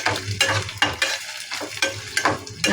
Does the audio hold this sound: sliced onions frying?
yes